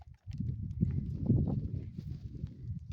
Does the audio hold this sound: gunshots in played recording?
no